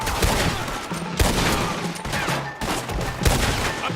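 Heavy gunfire in a town shootout in Red Dead Redemption 2, with dense overlapping shots crackling continuously for the whole stretch and no voices over them.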